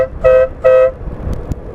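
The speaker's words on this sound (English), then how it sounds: "Okay, here's the horn with it out being on the freeway." A Stebel air horn mounted on a motorcycle blasts two short, loud honks in quick succession on a freeway, followed by quieter road and traffic noise.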